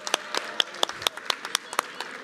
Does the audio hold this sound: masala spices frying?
no